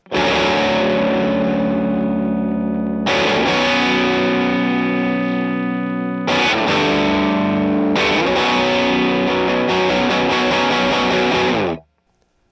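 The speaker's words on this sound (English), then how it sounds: "it will sound something like this" A distorted electric guitar, a Gibson Trini Lopez through a Fender Tone Master amplifier at volume around 9, plays sustained power chords, four long ringing strums with brief breaks between, fairly loud, ending in a sudden cutoff.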